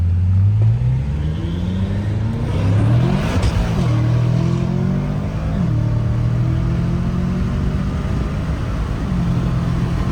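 A BMW M5 accelerating hard from a standstill to 130 km/h, its engine rising through the revs with shifts along the way, loud and close inside the car with no talking.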